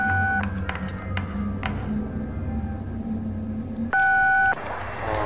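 A phone call rings out unanswered, its electronic ringing tone repeating in short bursts over a low steady hum, with one louder tone near the end.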